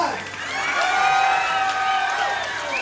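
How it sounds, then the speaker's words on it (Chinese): Wedding guests in Taiwan clapping and cheering as the bride makes her entrance, a sustained crowd roar with whoops and applause building and holding, and voices mixed in throughout. "让我们用最热情的掌声。"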